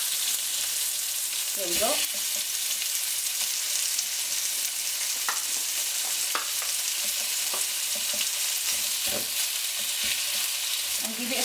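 Chicken breast frying with soft tomato in a pan over high heat, a steady loud sizzle with scraping stirs throughout and a brief spoken remark.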